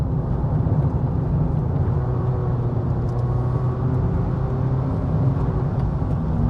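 Interior of a Honda Fit driving on a road, a steady low engine and road hum with tire rumble, fairly quiet and even throughout with no talking.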